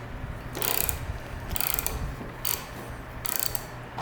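A hex bolt is turned out of the seat on a 2021 Triumph Street Triple RS motorcycle, with close, repeated bursts of ratcheting clicks separated by short pauses.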